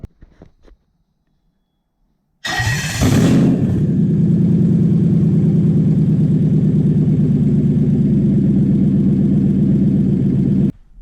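A Toyota 1UZ fuel pump, connected to a tester, starts abruptly with a loud burst and then runs as a steady, continuous, fairly loud electric hum with a constant drone, with no talking over it.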